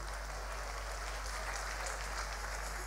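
A congregation claps at a church consecration service in the Diocese of Lagos, Nigeria: faint, continuous, even applause under a steady low electrical hum.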